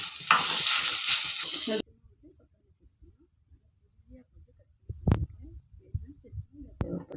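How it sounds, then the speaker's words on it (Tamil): Potato masala for aloo paratha is stirred in a pan, with a close sizzling scrape at first that stops suddenly, then scattered spoon taps and scrapes against the pan in near silence. "மசாலாவுக்கு வந்து தேவையான வந்து உப்பு சேர்த்துக்கலாம் நல்லா வந்து கலந்து விட்டுக்கலாம்"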